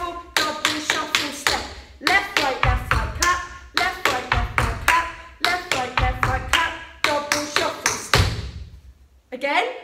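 Tap shoes strike a wooden floor in fast, crisp bursts of steps and double shuffles, broken by sharp hand claps, in an improvers' tap class, loud and close, with an instructor's voice counting along.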